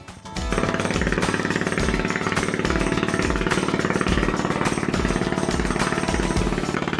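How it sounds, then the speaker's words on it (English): Loud boat engine exhaust, a rapid, hammering rumble that starts abruptly and pounds on steadily at close range. "The floor is vibrating where I was standing from the noise of that exhaust."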